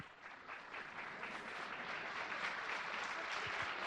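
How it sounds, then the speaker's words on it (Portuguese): An audience at a talk on data and user experience bursts into sustained applause, the clapping swelling slightly and holding steady throughout without speech. "Salva de palmas para o Luiz Felipe Fernandes"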